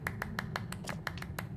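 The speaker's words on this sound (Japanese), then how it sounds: "いや拍手はいらんねん、" Clapping from a character in the video game Death's Door: a quick run of about ten sharp, evenly spaced claps over a low background hum.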